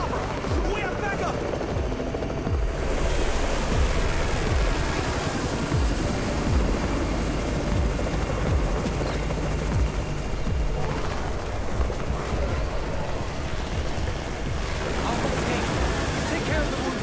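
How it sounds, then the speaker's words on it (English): A helicopter arriving during a zombie battle in the video game Undawn, its rotor thrum steady and loud throughout under shouting and voices. "It's the Raven's chopper! We have backup!"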